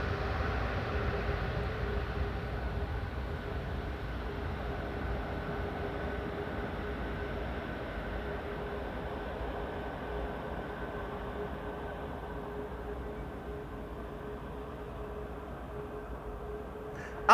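An airliner landing on Schiphol's Polderbaan runway 18R with idle reverse thrust, a distant, steady broadband roar and hiss that fades slowly, with no talking.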